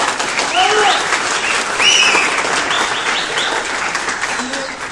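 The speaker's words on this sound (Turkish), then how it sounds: "Onlara da bir alkışlar" Applause at a school interscholastic medal ceremony for junior and youth athletes, a steady crowd clapping for about five seconds with voices and a few shouts mixed in.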